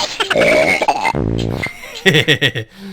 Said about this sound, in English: the fart noise. That's an enemy baby, by the way.